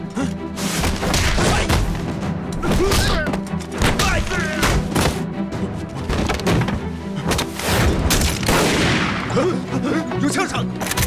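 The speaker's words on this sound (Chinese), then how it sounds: "有枪声！" Gunfire in a war film about an ambush on a Japanese army truck, loud dense bursts of shots and heavy thuds crowding the scene, with shouting voices over the battle.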